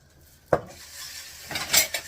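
A metal spoon stirs chicken, vegetable and bean soup in a pot, giving one sharp clank against the side followed by softer scraping and clinking strokes, close and fairly quiet with no talking.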